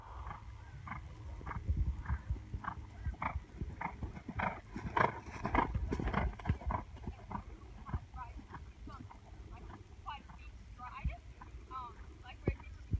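A horse canters around a riding arena, its rhythmic hoofbeats repeating steadily, moderately close, with an instructor's voice talking over them at times.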